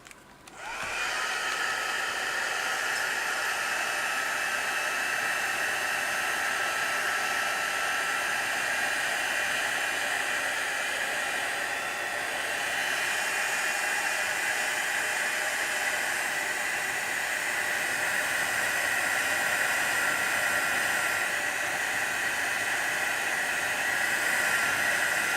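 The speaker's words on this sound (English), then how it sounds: "I need my dryer a bit more right now." A hair dryer switches on and runs as a loud, steady, close hiss and whir for about twenty-five seconds without a break, with no talking.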